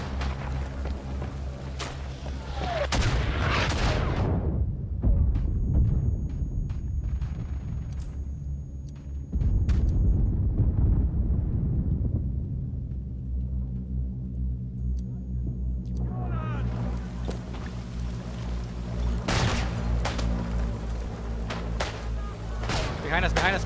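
Artillery fire in the World War I game Isonzo during a German attack: heavy, deep rumbling booms and rolling blasts that swell and fade repeatedly, with people talking over the barrage.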